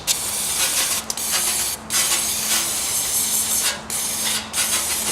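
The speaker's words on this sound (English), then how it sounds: "I'm just using regular carb cleaner. Kind of coat it on there" Regular carb cleaner sprays in close, loud hissing bursts onto the sticking EGR valve of a Ford F250 with a poor idle. The aerosol hiss is broken by several brief pauses, with no talking.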